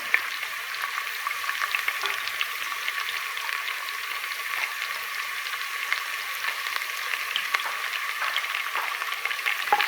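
Curry leaves and spices sautéing in a pan for a Kerala anniversary meal, giving a continuous, even crackling sizzle close by, with no voices and no breaks.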